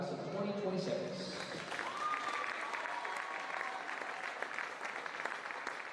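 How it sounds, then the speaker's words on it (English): Steady applause from a crowd at a high school volleyball senior recognition fills the clip, with voices mixed in beneath the clapping throughout. "let's give a huge round of applause"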